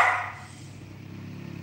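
A small dog gives one short, sharp bark at the very start inside the baseball video game Baseball Clash, followed by a low, steady game hum.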